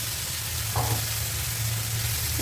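Boiled greens and minced meat sizzling in a hot pan, a steady close crackling fry with a brief stir partway through.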